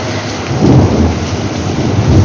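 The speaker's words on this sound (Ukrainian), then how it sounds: "Гроза все-таки до нас перелізла." A summer evening thunderstorm over a village, steady heavy rain hissing loudly with a low rumble of thunder rolling underneath, no voices.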